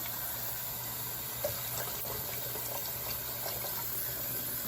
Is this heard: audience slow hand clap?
no